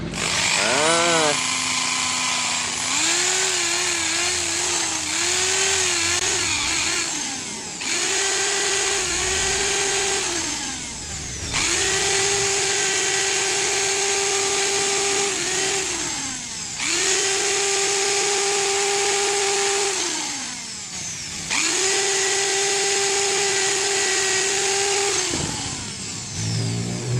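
A power sander grinds on a new differential gear set for a Ragasa PS 120 truck, with loud sustained whining passes that rise and fall, pausing and restarting several times, close up.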